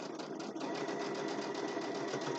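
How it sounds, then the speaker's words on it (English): A sewing machine stitches a zippered boxed bag in a continuous, even run of rapid needle clatter, close and steady for the whole moment. "And I'm going to stitch till I'm halfway across."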